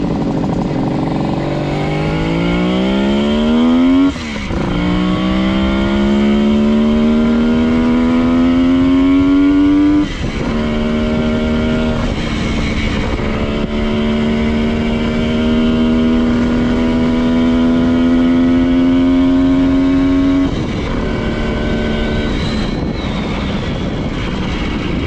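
A Kawasaki H1 750 two-stroke motorcycle engine on a ride, loud and close, revving up through several gears with rising whines and brief dips at each shift, under wind noise.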